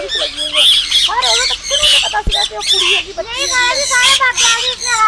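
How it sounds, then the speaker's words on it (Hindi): Harsh, loud squawking from Amazon parrots at a zoo, close by and almost nonstop, with shrill overlapping calls and a voice or two mixed in. "अमेज़न तोते हैं वो देखो"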